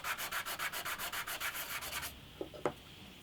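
Sandpaper working the bridge of an antique parlour guitar in about sixteen quick, even back-and-forth strokes, close and fairly quiet, then stopping, followed by a couple of small taps.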